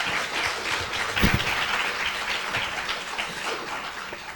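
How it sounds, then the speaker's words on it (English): An audience applauds after a lecture on Partition narratives at an academic symposium, a moderate, even wash of clapping that lasts a few seconds with no voice over it. "A huge round of applause for Dr. Das, please."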